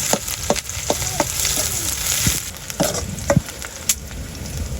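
Onion and garlic fry together in a pan, a continuous sizzle broken by frequent clicks and scrapes of a utensil stirring, close and clear.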